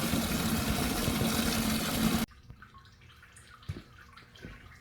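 Fluid gushes from a 1940 Ford 9N tractor into a bucket as a loud, dense splashing stream that stops abruptly, then gives way to a few quiet drips and clinks.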